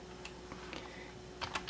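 Keystrokes on a computer keyboard as a DOS command is entered, a few scattered clicks followed by a quicker burst near the end, close and fairly quiet over a faint steady hum.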